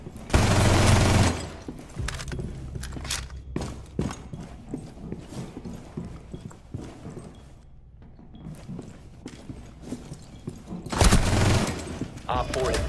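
Gunfire from a Rainbow Six Siege bomb-defusal round, with sharp shots scattered through the clip, heavy bursts at the start and end, and a caster talking over the action.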